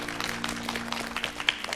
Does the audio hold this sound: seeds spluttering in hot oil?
no